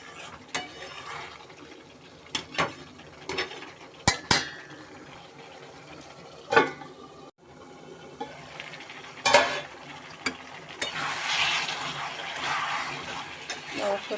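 Chicken kosha is stirred in a pan with a spatula, giving irregular metallic clanks and scrapes against the metal over a faint background sizzle, building to a denser hiss near the end; close, with no talking.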